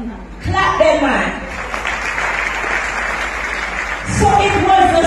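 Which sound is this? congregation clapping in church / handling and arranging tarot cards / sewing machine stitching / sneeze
congregation clapping in church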